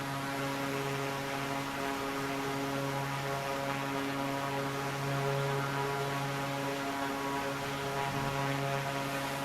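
The propeller engine of a Dornier Seastar in Microsoft Flight Simulator 2024 drones steadily with a constant, even hum and buzzing harmonics, unchanging and alone for the whole stretch.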